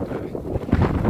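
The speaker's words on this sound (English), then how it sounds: "even when it's windy." Low, blustery wind buffets the microphone, a steady rumbling rush that swells briefly near the end.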